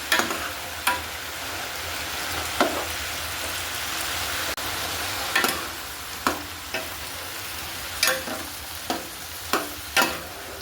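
Onion flower stalks fry in an open pan with a loud, constant sizzle, and a string of sharp spatula scrapes and taps comes in irregular bursts throughout.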